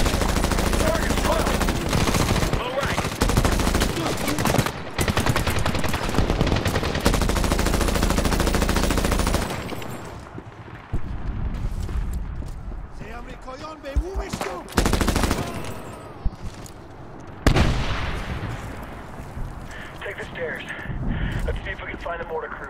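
Dense gunfire and mortar blasts in the Medal of Honor combat game at Bagram base, with sustained machine-gun bursts and explosions for about ten seconds, then sparser shots and impacts under radio-style voices.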